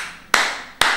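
Two loud unison claps from a church congregation at a French-language service, spaced roughly half a second apart, each ringing briefly in the room before fading.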